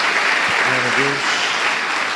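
Congregation applauding during a Portuguese-language church sermon, a dense steady wash of hand claps through the whole stretch, with a voice calling out briefly beneath it.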